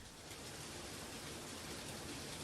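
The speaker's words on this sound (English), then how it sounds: "Is it because it's raining?" Steady rain in a video game, a continuous even hiss of falling water that fills the whole moment without any break, with no voices over it.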